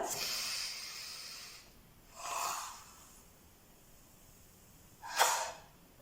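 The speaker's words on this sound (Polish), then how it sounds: "Czyli wciągamy powietrze nosem." Slow breaths drawn in through the nose in a speech-therapy breathing exercise: a long soft hiss at the start, then two shorter, sharper sniffing inhales, close and fairly quiet with pauses between.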